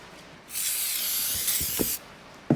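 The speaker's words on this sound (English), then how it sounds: "Once you open the box, you get brake clean." Brake cleaner sprays onto a new brake rotor in one loud, close hissing burst of about a second and a half, followed by a couple of soft taps.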